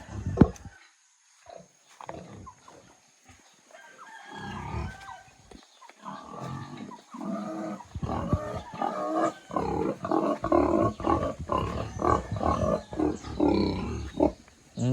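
Domestic farm pigs squeal and grunt loudly and continuously at close range, harsh overlapping calls building and persisting through most of the stretch with only brief lulls.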